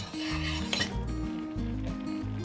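A spoon scrapes and clinks around a pot of boiling apricot marmalade, steady rhythmic stirring close by with a low continuous hum beneath and no talking.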